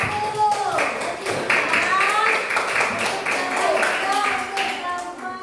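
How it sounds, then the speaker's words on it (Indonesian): Classroom group applauds group 1 with steady, dense hand clapping throughout, mixed with voices of children and adults talking over it. "tepuk tangan dulu untuk kelompok 1"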